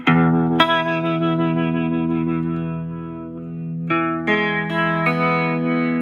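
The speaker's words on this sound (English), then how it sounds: "Vibrato, this is another thing that we can use this for. This is just moving our whole pitch of our guitar up and down" Electric guitar played through a Fender Champion 20 amp with its vibrato effect, the pitch wavering up and down across sustained ringing chords, with a few fresh strums near the end and no talk.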